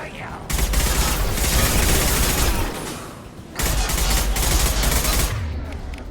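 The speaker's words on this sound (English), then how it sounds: "switch over to my assault rifle" Assault rifle fire in Mass Effect 2 Legendary Edition, loud sustained bursts of automatic gunfire in two long volleys separated by a brief lull, with game combat noise around them.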